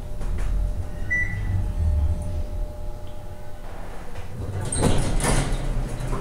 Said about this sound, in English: Door close always works on Dover, though.